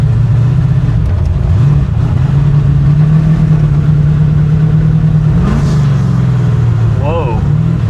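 A 560hp V8 in a Chevrolet Impala runs loudly and steadily near the microphone, its droning note lurching as the transmission shifts, with a voice briefly heard over the engine.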